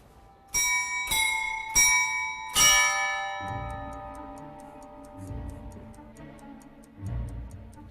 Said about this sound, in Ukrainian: Щогодини він відбиває відому українську мелодію